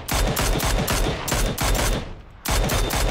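Gunfire in PUBG on a new map: loud, close automatic bursts of rapid shots in three or four rhythmic volleys separated by brief gaps, with no talk over them.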